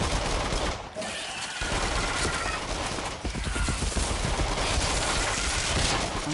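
Video game gunfire while shooting at enemies on a PS4, dense and loud rapid bursts of shots running almost continuously with brief gaps.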